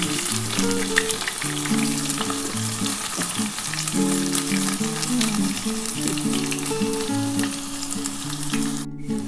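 Tomato goes into hot oil in a pan for a duck egg curry, and a loud, steady sizzle of frying carries on throughout with occasional stirring clinks.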